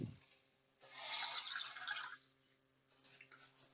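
Water poured from a cup into an AC cooker inside a minivan, a short close trickle and splash lasting about a second, then a softer second pour, over a faint steady hum.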